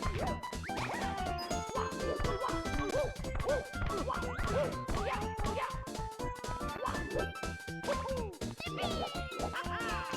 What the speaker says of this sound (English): And there are a couple of dogs.